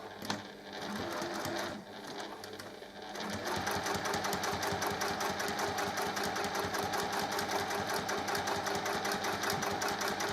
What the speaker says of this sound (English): Just going to do a top stitch along this edge, close to the edge as you can, 1/8 of an inch.